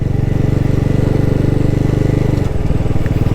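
A Bajaj NS400z motorcycle engine runs steadily in third gear at low road speed, giving a loud, even, pulsing thrum that shifts slightly near the end of the short stretch, with no talk over it.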